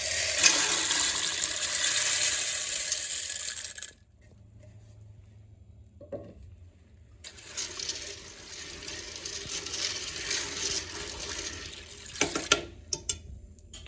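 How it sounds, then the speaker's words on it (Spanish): Water pours into a cooking pot for boiling corn for zacahuil, a broad rushing splash that runs for several seconds, pauses, then resumes steadily with some clattering near the end. "Voy a agregar más agua"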